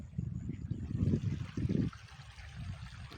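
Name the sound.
flowing water stream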